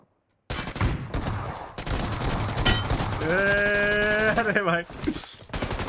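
Shotgun gunfire in a PUBG-style team deathmatch video game, with bursts of shots and game effects mixed under loud excited talk from players throughout.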